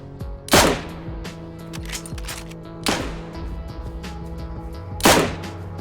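Gunfire in the video game DayZ: three sharp, loud shots spaced a couple of seconds apart, each with a short echoing tail, over a low steady background bed and no speech.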